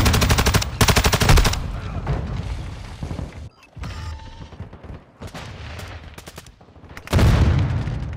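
Gunfire crackles in a Call of Duty: Modern Warfare II match at Al Bagra Fortress: dense machine-gun bursts open loudly, then scattered shots and booms, with another heavy rapid burst near the end.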